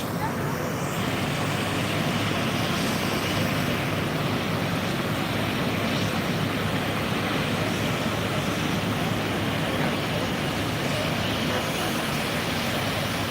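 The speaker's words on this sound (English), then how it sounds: "Gust of wind." A steady outdoor wind gust roars as broadband rushing noise throughout, at a fairly constant level with no clear breaks, near a church during a live structure fire and line fire update.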